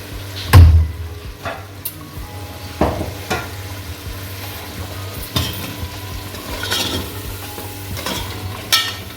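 Spices cook with dry coriander and ground cumin in a pan for mutton paya. A spoon stirs and scrapes in repeated sharp strokes over a constant sizzle, close and fairly loud, with no talking.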